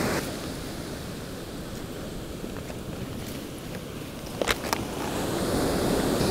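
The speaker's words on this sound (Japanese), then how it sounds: "いや、すごい波だな。" Rough surf breaks on a beach after overnight rain, the waves high, giving a continuous loud wash of noise with wind buffeting and a couple of brief knocks near the microphone.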